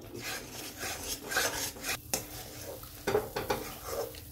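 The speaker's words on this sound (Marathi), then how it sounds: "ते एकदम घट्ट होईपर्यंत आपल्याला हलवून घ्यायचंय आणि एकदम असं सारखा हात चालू ठेवायचा आणि कमी गॅस करायचा" A thick khoa mixture stirred in a heavy kadai over low gas, a spoon rasping and scraping against the pan in uneven strokes, close up and soft.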